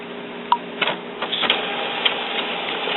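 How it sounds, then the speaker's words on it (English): An Epson WorkForce WF-7620 series inkjet printer running a print head nozzle check, giving a soft continuous mechanical whir with brief clicks and ticks scattered through it, close by with no talking. "I want to go to print head nozzle check. Let's print that out."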